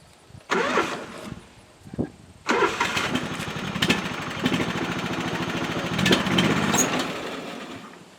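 A lawn mower's engine is pull-started on a farm plot beside pumpkins: several sharp cord pulls and sputters, then the motor catches and runs steadily and close, with a brief voice in the background.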